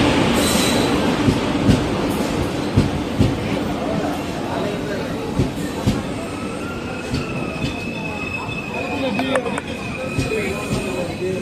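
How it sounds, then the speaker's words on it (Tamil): The 16617 Coimbatore weekly express rolls into a station, with steady loud rumble, rhythmic wheel clatter and brief squeals over several seconds, while people talk nearby. "train number 16617 Coimbatore weekly express பார்த்தீங்கன்னா ஒரு 9 நிமிஷம் டிலேவாக வந்துட்டுருக்கு"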